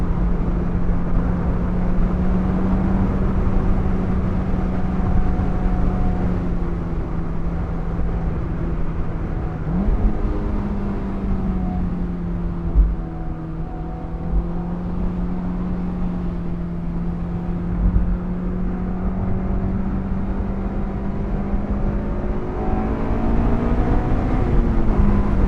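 Engine of a Honda S2000 AP2 sports car while driving, a steady droning hum inside the cabin that shifts pitch gradually as revs rise and fall, with a brief bump midway.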